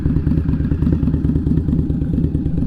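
An Indian Scout Bobber motorcycle engine idles close by, a deep, loud, rhythmic throbbing rumble that pulses evenly and steadily the whole time.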